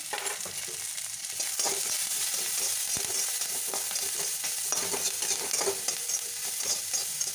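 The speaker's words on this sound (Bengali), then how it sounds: "এই তেলেতেই পেঁয়াজ দিয়ে দেবো, পেঁয়াজ আর লঙ্কাটা দিয়ে দিলাম" Onion and green chili frying in oil with a little salt, a loud continuous sizzle with scraping of a stirring spoon throughout, close up and without talk.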